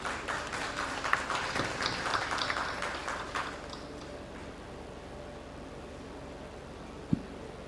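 An audience at a conference applauds as a guest from Expat Dakar comes up to the stage. The clapping runs for about four seconds, then fades to quiet room noise with a single sharp tap.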